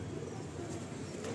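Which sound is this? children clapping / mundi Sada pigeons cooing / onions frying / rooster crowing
mundi Sada pigeons cooing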